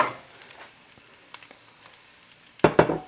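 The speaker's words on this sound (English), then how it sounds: "With fried rice, you want to break up the rice so that you got almost like individual grain." Cooked rice for Japanese-style fried rice sizzles faintly in a hot pan while a utensil scrapes and stirs it, ending in two louder scraping, clattering strokes near the end, with no talking.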